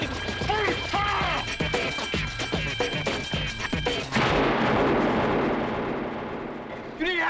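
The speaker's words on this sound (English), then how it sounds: "You didn't have to shoot him" Loud gunfire and crashing impacts from a 1992 crime drama movie trailer burst in a rapid, dense cluster, then give way to a rumbling roar, with voices speaking over parts of it.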